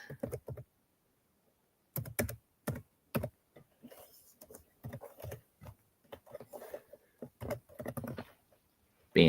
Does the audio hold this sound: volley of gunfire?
no